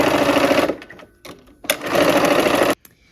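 A sewing machine runs loud and close while stitching rows of a quilt, in two long bursts split by a short pause with light handling clicks.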